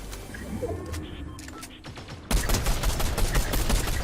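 Fortnite gunfire in an online match: a few scattered shots at first, then a sudden loud, sustained burst of rapid automatic fire that continues to the end.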